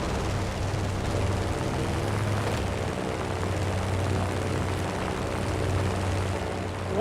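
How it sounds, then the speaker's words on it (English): Airplane engine droning steadily in the open-world video game Just Cause 3, a continuous loud propeller hum with low throbbing tones, alone with no talking. "I think I want to jump from this plane here."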